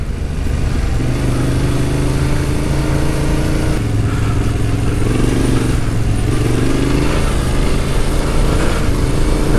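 A Yamaha Tenere 700 motorcycle rides through loose sand, its engine droning loud and close, rising and falling in pitch as the throttle shifts, with no one talking.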